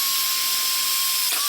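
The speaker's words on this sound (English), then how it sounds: "With a sharp new drill bit, I'm gonna drill these holes into the steel." A power drill with a sharp new bit boring holes into a steel piece: a steady, high mechanical whine that holds continuously, close and fairly loud, dipping briefly near the end, with no talk.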